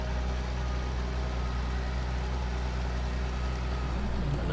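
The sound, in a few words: tractor engine running with throaty growl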